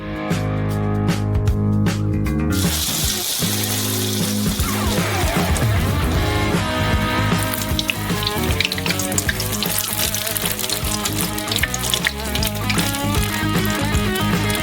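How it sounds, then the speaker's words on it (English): Loud, constant bubbling hiss of a corn dog deep frying in hot oil, with a brief crackly burst at the start and layered tonal hum throughout. "And then you just gotta fry it."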